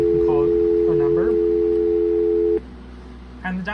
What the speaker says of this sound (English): And the dial tone on this is not actually correct.